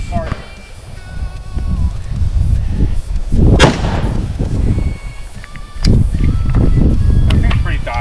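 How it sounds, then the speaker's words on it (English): Loud, booming gunshots ring out at an outdoor multi-platform shooting range where 5.56, 9mm and .45 ACP firearms are used. Two heavy reports echo with a long tail, and voices are heard around them. "Good shot, Carson."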